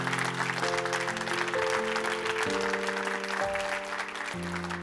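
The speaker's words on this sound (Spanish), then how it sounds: "dale el mejor aplauso a Jesús" Church congregation applauding during a Spanish-language sermon, a steady patter of many hands clapping beneath sustained organ or keyboard chords that shift pitch throughout.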